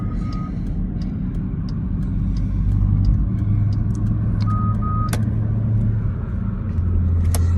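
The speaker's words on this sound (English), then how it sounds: "This traffic." Heavy road traffic on a congested highway on Mother's Day 2022, a steady low rumble of cars and trucks close by, with faint beeps and brief clicks over the continuous engine drone and no talk.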